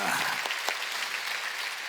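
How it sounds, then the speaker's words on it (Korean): A Korean church congregation at Sunday worship claps as the pastor comes forward. The applause is brief, moderate and fairly even, with some voices faintly mixed in. "하나님께 박수"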